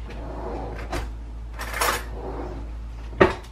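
A metal fork lifted from a set of cutlery in a kitchen while making coconut cream pie, a few soft clinks and rustles capped by one sharp, close metallic clatter near the end.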